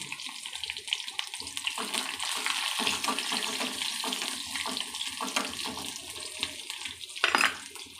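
Cooking water from boiled greens poured into a pot of sambar on the stove, a steady close liquid rush running for several seconds with a brief louder splash near the end, no talking.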